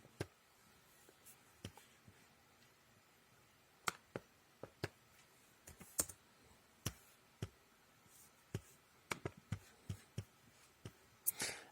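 Sparse, irregular keystrokes tap on a computer keyboard while a command is entered in the Windows terminal. The clicks are faint and isolated against a quiet background.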